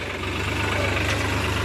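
A fully loaded farm tractor beside a canal runs with a steady, close, low diesel rumble and throbbing idle, unbroken throughout.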